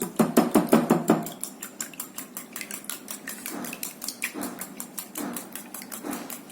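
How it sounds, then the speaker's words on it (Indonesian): Two eggs whisked by hand in a bowl for sempol ayam, a rapid run of close, clicking taps of utensil against bowl, brisk and even at first, then steadier strokes with brief pauses. "Dua butir telur dikocok aja, nggak usah dikasih garam"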